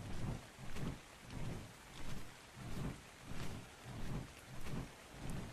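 Steady rainfall in ARK: Survival Evolved rushes in repeating waves, swelling and fading about every half second, like looping storm ambience with a low rumbling undertone.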